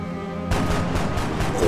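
Gunfire in a shooter video game, a burst of several sharp, loud shots in fast succession after a quiet start.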